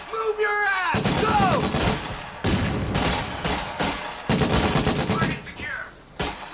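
Heavy gunfire pours onto a fighting position in Company of Heroes 2, dense rattling bursts and shots in loud, near-continuous volleys with brief gaps, a radio-style voice briefly audible at the start.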